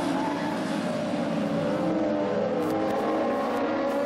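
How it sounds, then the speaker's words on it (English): Mod Lite race cars roar together at the start of a heat race on an oval track, a steady dense engine drone held throughout at moderate distance. "Here we go with our second Mod Lite heat race."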